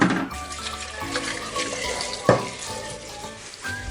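Potatoes being washed under a running kitchen tap, with steady splashing water and occasional clunks of the vegetables and sink, one sharper knock near the middle, no talk.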